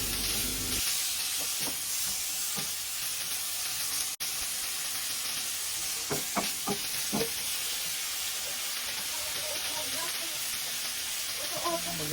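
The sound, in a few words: onion, garlic and tomato sautéing in a pan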